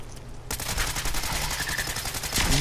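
A customized automatic assault rifle in Fallout 4, with a powerful automatic receiver, plasma recoil-compensating stock and shotgun suppressor, fires one continuous rapid burst of loud, close, tightly spaced shots after a brief quiet lead-in.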